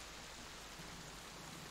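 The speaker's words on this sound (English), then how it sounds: "as the rain patters down on your wagon" Rain patters steadily on a wagon at night, a soft even hiss of falling drops with no other sounds.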